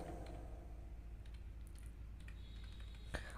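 In Tally accounting software, a narration is entered on a computer keyboard: quiet, rapid clicking keystrokes come over a low steady hum, ending with a sharper single tap.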